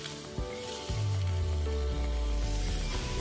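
A sudden loud sizzle and crackle as soaked wood chips hit a hot surface in a Masterbuilt electric smoker, hissing steadily after a few clunks.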